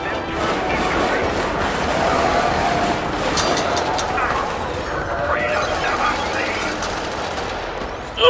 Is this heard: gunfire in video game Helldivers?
yes